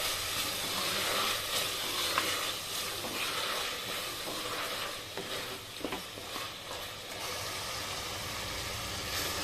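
Hyderabadi meethi gosht with tomatoes fries in a pan, giving a steady close sizzle and hiss. Faint stirring scrapes and clicks come and go over the continuous frying noise.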